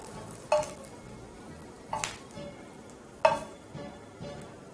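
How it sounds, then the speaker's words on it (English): A knife chops through cooked bacon on a cutting board with four sharp, separate strikes spaced about a second apart, close and clear over a quiet kitchen background. "we'll proceed to chop these up"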